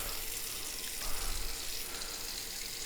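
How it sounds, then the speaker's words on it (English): Warm water runs steadily from a kitchen sink tap, a soft continuous hiss and splash close by with no talking. "We're starting out by getting some warm water."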